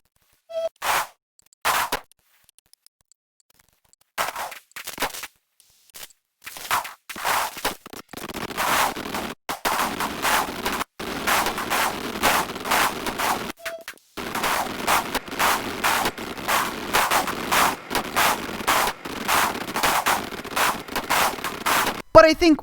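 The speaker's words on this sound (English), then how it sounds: "let's watch our our poor old ship get destroyed by this traitor." Rapid bursts of gunfire in The Cosmonauts space game batter a derelict ship, loud staccato volleys that start in short spurts and build into long, dense, continuous firing, with a voice talking over parts.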